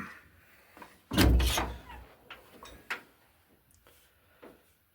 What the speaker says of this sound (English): Let's open the door up.